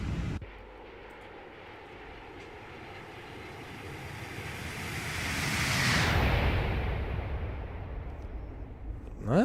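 An Airbus A350 passes by in a flight simulator game, its engine roar slowly building to a broad peak midway and then fading, loud and continuous with no talk.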